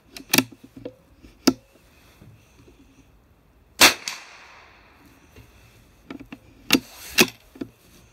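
A .22 LR rifle fires at a range target 50 yards out, giving sharp, close single cracks at irregular intervals, one with a longer ringing tail and two following in quick succession near the end.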